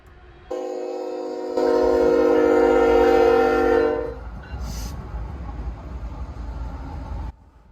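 A train horn blasts steadily for a few seconds over the low rumble of a departing freight train on the CSX Henderson Subdivision, which keeps rolling after the horn stops.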